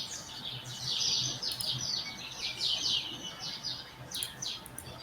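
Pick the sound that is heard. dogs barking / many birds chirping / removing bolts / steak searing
many birds chirping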